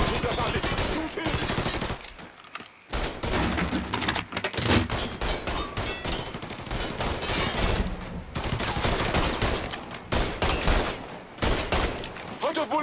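Rapid gunfire in the video game Mafia III, dense bursts of shots and automatic fire nearly continuous through the clip, loud and close, with brief lulls and shouted voices mixed in.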